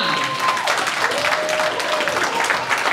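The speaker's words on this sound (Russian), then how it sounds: "друзья, но разве это недостойно ваших аплодисментов?" Audience at a 60th birthday celebration for a football figure breaking into applause, sustained clapping with scattered voices and a faint tonal line beneath.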